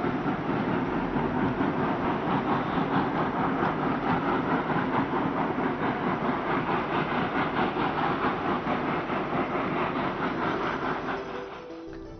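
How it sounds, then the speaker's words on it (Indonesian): Coal-mining-town railway near Sawahlunto, train wheels clattering over rail joints in a steady rhythmic clickety-clack with a low engine rumble, loud and continuous for about twelve seconds before easing off at the end. "Suara derak roda kereta api beradu dengan rel."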